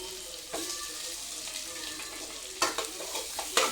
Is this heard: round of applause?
no